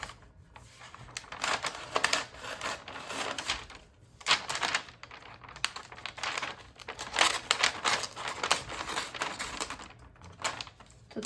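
Wax-coated freezer paper is handled while wrapping elk meat, giving continuous close crinkling and crumpling with bursts of louder rustling and brief pauses.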